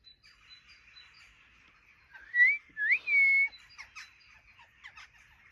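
A bird gives a short whistled phrase imitating a human whistle, rising notes repeated twice, amid faint background chirps.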